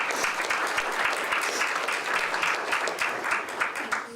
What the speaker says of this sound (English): Let's give a round of applause for those two